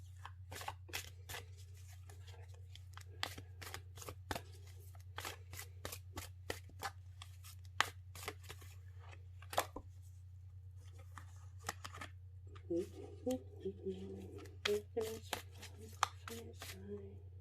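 Tarot cards, a Witch's Tarot deck, riffled and shuffled in repeated sharp crisp bursts close by, with a low steady hum underneath and a few softer rustles toward the end.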